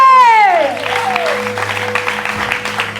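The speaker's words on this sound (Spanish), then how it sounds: "Puedo dar un aplauso al que vive." Church congregation bursting into applause during a lively worship service, a sliding whistle-like tone at the start giving way to dense, steady clapping with voices mixed in.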